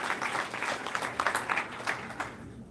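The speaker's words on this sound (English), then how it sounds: "give yourself a round of applause" Applause from a crowd rattles along for a few seconds, steady and moderately loud, with a faint voice mixed in underneath.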